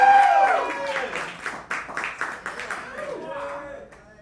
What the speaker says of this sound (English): Start clapping right now for Mr.